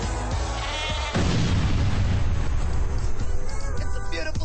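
Sheep bleat from an online slot video game, heard over loud, dense game music and effects that swell partway through.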